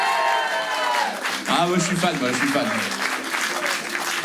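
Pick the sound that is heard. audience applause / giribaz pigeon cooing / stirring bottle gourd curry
audience applause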